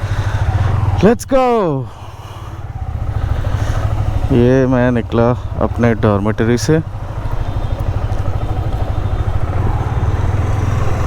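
A motorcycle engine idles steadily close by after a cold start, a continuous low rumble heard beneath someone talking.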